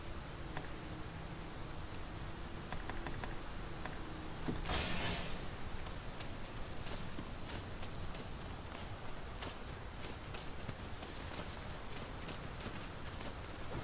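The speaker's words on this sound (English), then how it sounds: "It is raining most heavily." Heavy rain falls steadily in Dragon's Dogma 2, a constant broadband hiss that holds evenly throughout, with a brief louder surge midway and faint clicks scattered over the downpour.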